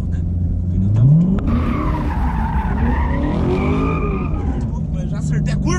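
Corvette with traction control switched off, rear tires spinning and squealing to warm up, a loud engine rising and falling with skidding screech, close by.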